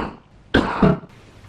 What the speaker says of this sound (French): j'ai beaucoup toussé dans cette vidéo